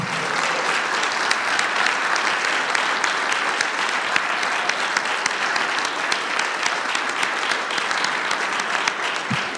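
Sustained applause from a church congregation at a Sunday service, steady dense clapping at even volume throughout with no speech over it.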